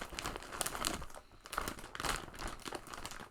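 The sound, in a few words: crinkling of a bag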